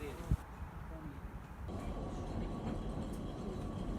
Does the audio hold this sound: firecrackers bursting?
no